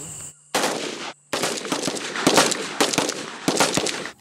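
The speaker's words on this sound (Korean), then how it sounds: "적을 만날 경우 빠르게 대응할 수 있도록 기동사격 훈련을 합니다" Gunfire during a military mobile shooting drill: loud, close bursts of rapid shots in a rough, uneven rhythm, broken by brief silent gaps.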